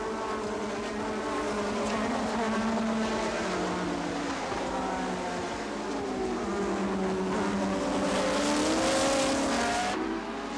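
1986 Formula 1 race cars at a Grand Prix, engines screaming at high revs as they pass, a continuous, fairly loud whine that rises and falls in pitch with gear changes and passing cars.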